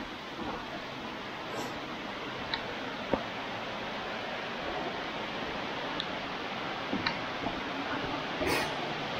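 Steady broadband rush of Hareshaw Linn waterfall in Bellingham, Northumberland, a constant roar filling the scene, with a few faint ticks and clicks scattered over it and no speech.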